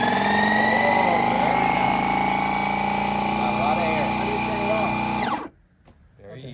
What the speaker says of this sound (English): So this is a Scoprega portable kite board pump, and we're going to pump it up.